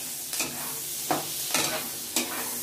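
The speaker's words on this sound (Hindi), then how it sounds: "इसके बाद आप इसमें ऐड कर लें जो हम लोगों ने प्याज रखा हुआ था वो, इसको भी हल्का सा" Onions fry lightly in a pan for butter paneer masala with a steady, close sizzle. A spoon stirs through them in several distinct scraping strokes, and no voice is heard.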